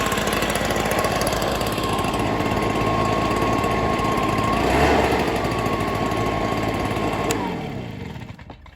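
A gas backpack leaf blower, an Echo PB-265ln or a 2005 Stihl BR420C Magnum, runs after a cold start with a loud steady buzzing drone held close up, then winds down near the end.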